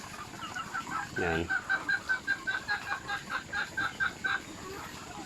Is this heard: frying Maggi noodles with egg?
no